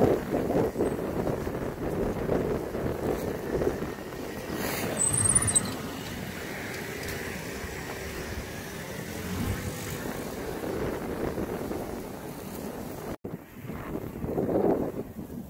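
Strong gusty storm wind in Antalya, Turkey, in January buffets the microphone with a constant low roar, surging and easing, with a brief dropout near the end before the roar returns.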